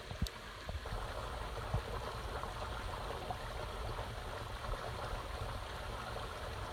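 A river flows through woodland beside a hiking trail, a soft, steady, even rush of water heard from nearby, faint and unbroken with no voices.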